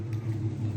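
Nissan Altima with a VQ engine and a Magnaflow resonator, a short low exhaust rumble rising slightly as the engine revs, close and steady.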